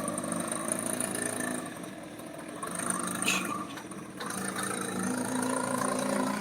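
A small motorbike carrying a child in an ondel-ondel costume runs with a steady idling engine drone, fairly close and continuous, with a brief louder swell midway and no talk.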